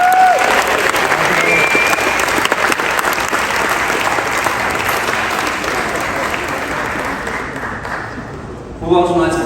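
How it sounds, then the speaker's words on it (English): Sustained, loud applause from a film festival audience, dense clapping that carries steadily for several seconds before fading near the end as a voice briefly starts talking. "Wonderful round of applause, please, for our extremely talented runners-up."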